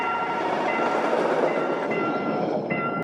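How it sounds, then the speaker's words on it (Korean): A train pulls into a station with a loud, steady rumbling roar and faint high brake squeals, close by and continuous, ending with a sharp click. "열차 들어올 때 소리가 이렇게 커야 되는 건 알지만 너무 깜짝 놀랐어"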